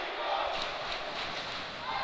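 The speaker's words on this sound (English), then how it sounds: "this Let's Go Eagles chant is shaking this building" A packed college basketball arena crowd roars in a sustained, loud wash of voices, a chant blending into the general din, with a faint rhythmic pulse and no clear individual words.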